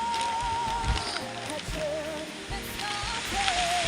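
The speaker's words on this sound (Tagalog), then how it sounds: "Paikot yung ulan. Ang lakas" Heavy mountain rain pours steadily and loudly, a dense continuous hiss with occasional heavier thumps close by.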